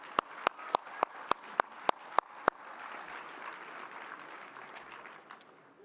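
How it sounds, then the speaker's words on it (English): An audience at a 185th annual dinner applauds, starting with nine sharp, evenly spaced claps that give way to a softer, spread-out patter of many hands in a large room. "Let's give Doug a round of applause"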